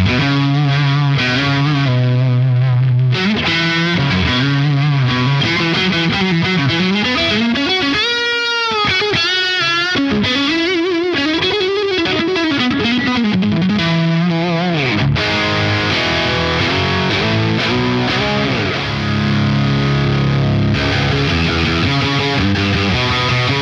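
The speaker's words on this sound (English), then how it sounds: "the sound of the overdrive is, like I said, it's kind of warm" Electric guitar played through a REVV Tilt overdrive pedal, with warm, distorted chords and sustained melodic lines that carry a bending lead passage, loud and continuous throughout with no talking.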